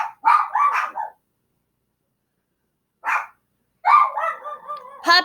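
Puppies bark in short, loud, close bursts: a quick cluster of yips, a pause, a single bark, then another rapid run of barks with a whine-like tone.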